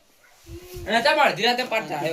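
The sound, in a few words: dog barking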